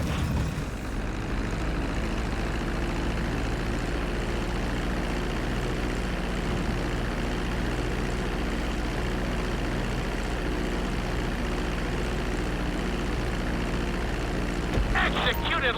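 A plane comes in to land on a runway in Grand Theft Auto V, its engine a loud, continuous droning roar that stays steady throughout, with a brief clatter near the end.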